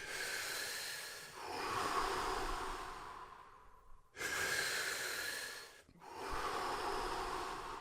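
Deep Wim Hof method breathing, with long, full inhales and slow exhales repeating in a steady cycle. The breaths are close and fairly quiet, broken by brief pauses, and no one speaks.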